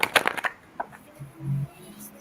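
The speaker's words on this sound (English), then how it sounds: "One more shuffle." A deck of cards is riffle-shuffled during a card reading: a quick burst of crisp, close flutter for about half a second, followed by softer handling sounds and a low hum.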